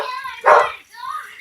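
Dogs in another room let out a short bark or yip over ongoing talk, the burst of barking brief and somewhat muffled.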